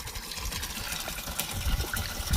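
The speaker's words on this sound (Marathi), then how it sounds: "हे आपण ड्रिपचे पाणी चालू केले आहे." Drip irrigation water runs through the lines in a tomato plot, giving a steady gushing, pump-like wash with no one speaking.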